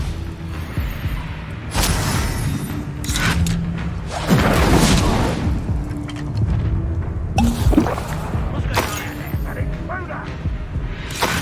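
An Incendio fire spell is cast in Hogwarts Legacy, a whooshing burst of flame swelling loudly mid-stretch amid other spell impacts and combat effects, while a person shouts over the action.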